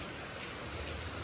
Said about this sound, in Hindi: तब से एकदम लगातार बारिश पे बारिश होते ही जा रहा